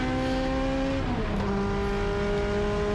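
Race car engine at a Mosport test, droning steadily at high revs with a pitch drop around a gear shift and the tone settling lower after it, continuous and close with no talk.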